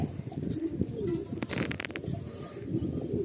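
A male pigeon from a breeding pair cooing close by, soft low throaty calls that roll in a repeating pattern over quiet background rustling.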